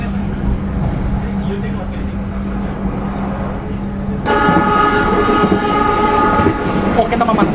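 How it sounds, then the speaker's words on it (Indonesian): Pandalungan passenger train running straight through Weleri station without stopping, a heavy rolling rumble of wheels on track that swells into a louder clatter with a horn-like blare, while a person talks over it. "saat ini kereta api Pandalungan 2 melintas langsung stasiun Weleri"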